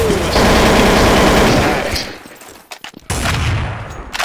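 Counter-Strike: Source gunfire, a loud rapid burst of automatic shots for about two seconds, then a gap with scattered clanks before more firing resumes, no talk.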